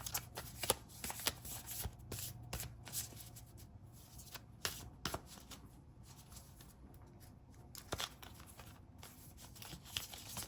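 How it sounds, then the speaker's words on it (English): Tarot cards shuffled by hand in quick riffling bursts, with softer slides and flicks as cards are drawn, close and quiet with no talking. "I'm going to also draw one of these cards."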